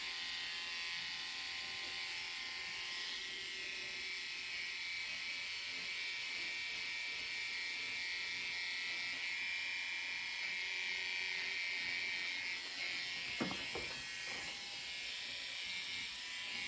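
Electric hair clippers working around the ears during a barber's haircut, giving a steady, close, high-pitched buzz that holds throughout with a few brief bumps near the end.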